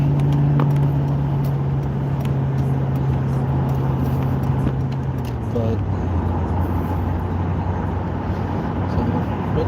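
An older car on a live drive, its engine a steady low drone that drops in pitch midway as the transmission shifts, with road noise filling the cabin throughout.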